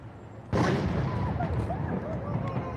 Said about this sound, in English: That was the biggest explosion we've heard today. I think that was like a battery pack of a Waymo, maybe?